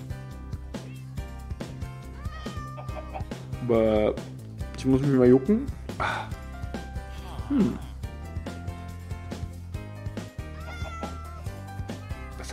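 A cat in the video game Minecraft meows repeatedly, several drawn-out, wavering calls over steady background music, with people talking in between.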